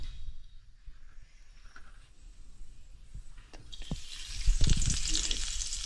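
Oil in a kadhai for a fish curry stays quiet at first with a few light clinks and taps, then breaks into a louder, fuller sizzle over the last two seconds.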